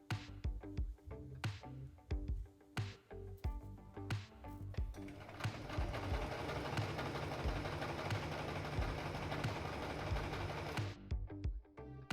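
A sewing machine stitches pinned silk for a no-pattern blouse, starting in short stop-and-go bursts of rapid needle clatter, then running steadily for several seconds before a few final short bursts.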